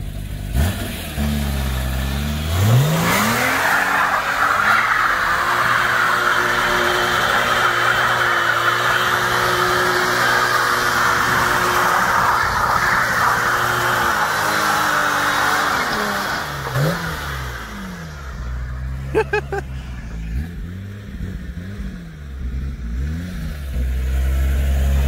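Car engine revving up and accelerating, rising from a low idle into a loud sustained roar that holds for over ten seconds, then falls back through dropping revs to a rumbling idle with a few clicks near the end.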